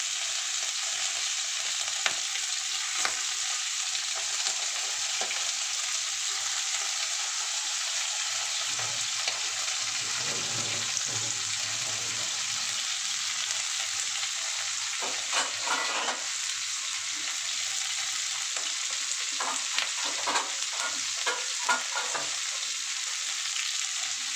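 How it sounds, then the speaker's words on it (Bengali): Potatoes cut in thick and small pieces fry in oil for a fish-oil chorchori, giving a steady, even sizzling hiss with occasional faint stirring scrapes and no voices. "এই সব আলুগুলোই একটু লাল লাল করে ভাজবো"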